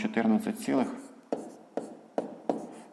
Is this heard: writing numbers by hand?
yes